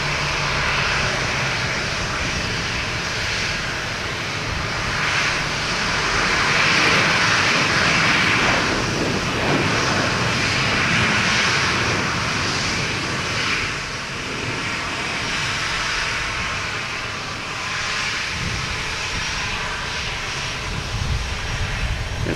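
An Alaska Airlines jet roars at Boston Logan Airport, a loud, sustained engine rumble and whine that swells toward the middle and holds steady for the whole stretch, with no voices.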